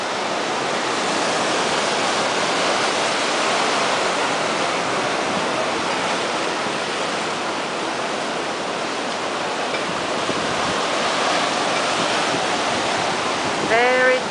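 Surf rolling in at Bondi Beach in Australia, a dense, continuous wash of breaking ocean waves that holds steady and loud throughout with no pauses and no voices.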